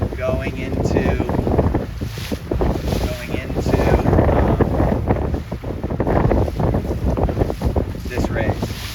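A 29er sailboat racing in wind, with heavy gusting wind buffeting the microphone and water rushing past the hull, continuous and loud, while a voice talks.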